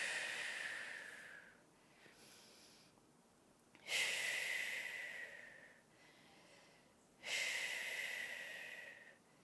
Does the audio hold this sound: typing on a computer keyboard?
no